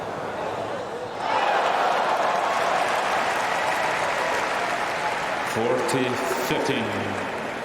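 A tennis crowd at a US Open night match breaks into sustained applause that swells after the first second and holds steady, with a commentator's voice coming in over the clapping near the end.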